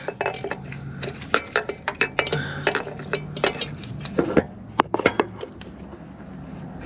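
Metal wrench clinks and ratchets against fittings during a motorhome oil change, a series of sharp, close, irregular taps and clicks of steel on steel with short pauses between them.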